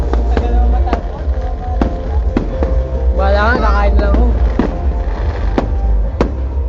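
Repeated sharp firework bangs at irregular intervals over a constant low rumble, with a person speaking briefly in the middle, at a fireworks display at Mall of Asia.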